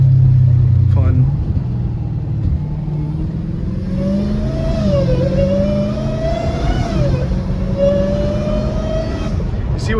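A Dodge Hellcat Redeye engine running without its exhaust, a loud close rumbling drone that rises and falls through several revs, with a person talking over it.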